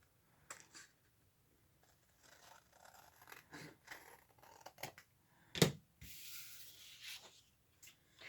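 Scissors trimming paper for a handmade lapbook, quiet intermittent snips and rustling scrapes of paper at close range, separated by short silences, one sharper cut standing out midway, no voices.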